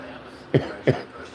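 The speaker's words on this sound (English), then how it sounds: "y'all hear her coughing like a rookie" A woman coughs twice, short coughs about a third of a second apart, close and fairly loud, over a quiet background.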